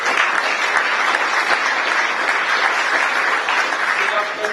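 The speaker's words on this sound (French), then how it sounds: "aussi on l'applaudit." Sustained applause from an audience at an exhibition opening honoring a professor, a dense, even wash of clapping filling the whole stretch without letup.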